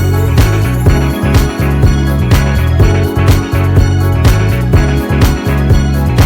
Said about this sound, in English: change up the hi-hats to give it a little bit more groove to it